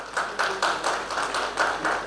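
Audience at a panel discussion on technology in teaching gives a short round of applause, a steady patter of many hands clapping at moderate volume with no voices over it.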